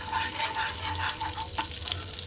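Cumin seeds sizzle in melted butter and oil for palak paneer, a continuous crackling fry with soft stirring and a brief clatter partway through, close and alone.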